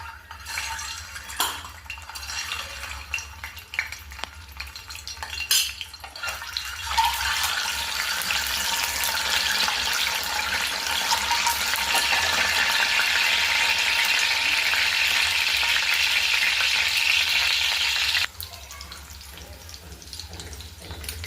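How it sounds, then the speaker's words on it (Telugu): Eggs drop into hot oil for a tomato egg curry. After a few clinks and knocks, a loud, steady, hissing sizzle fills the middle stretch, then cuts off abruptly near the end. "నూనె వేడెక్కినాక ఎగ్స్ వేసుకుందాం కొంచెం ఆయిల్ ఫ్రై చేసుకుందాం ఎగ్స్"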